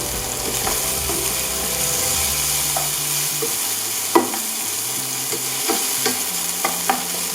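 Sliced carrots sauté in a pan for a beef, black mushroom and mung bean stir-fry, giving a constant sizzle broken by scraping stirs and sharp spoon clicks against the pan.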